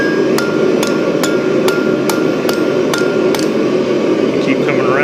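A blacksmith hammers hot metal over the edge of an anvil, giving sharp ringing blows at an even pace of about two per second over a steady background hum, then a brief voice.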